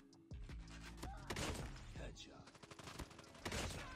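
Rapid bursts of Damascus .50 GS gunfire in Call of Duty Mobile, heavy booming shots repeating in a fast irregular rhythm, loud and close, with game sound effects layered throughout.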